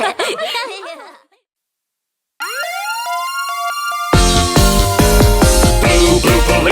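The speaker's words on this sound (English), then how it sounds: "You can blast your siren loud." A rising wail of a siren-like tone follows a short voice and a pause, then a bright, tinny musical toy police car siren from a children's song blares loudly with melody.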